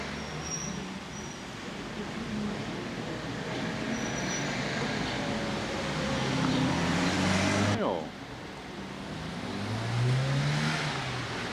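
Cars and other vehicles pass along a town street in Italy, a steady traffic rumble that swells as one vehicle goes by close and then fades back to the background hum.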